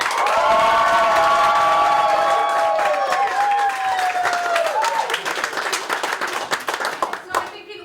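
Live audience clapping and cheering loudly to vote for contestants in a hat contest, a steady wash of many hands with whoops that thins out toward the end; faint speech in places.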